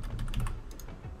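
Quick, steady tapping on a computer keyboard while text is entered into a Visual Basic program, close and alone with no talking.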